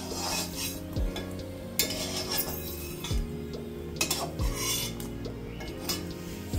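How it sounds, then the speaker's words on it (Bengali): A spatula scrapes and rasps against a pan again and again while fried garlic is lifted out, over a steady sizzle of hot oil, with no voices. "এবার আমি রসুনটা তুলে ফেলবো"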